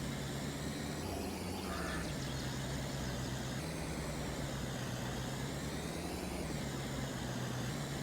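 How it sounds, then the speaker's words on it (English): Farming Simulator 22 tractor engine on a corn harvest farm: a steady, continuous droning motor hum with a constant level throughout, slight pitch shifts, no speech. "And then we'll move this tractor over right here."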